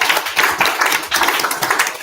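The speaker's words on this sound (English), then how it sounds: "a big applause" A lecture audience applauds at the close of a talk, quick rhythmic claps from a modest crowd, fairly close and clear, with no voices.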